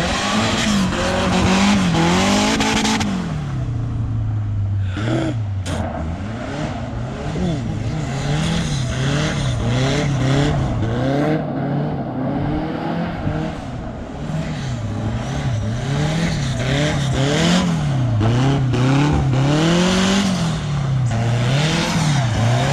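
A BMW car is driven hard and slid with the handbrake, its engine revving up and down in wavering swells while tires squeal loudly through repeated skids, close and continuous.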